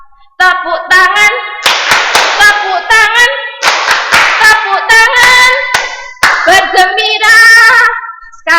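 Hands clap in time with a cheerful children's song in a second-grade lesson, sharp claps punctuating a sung melody near the microphone, with the voice carrying the tune throughout.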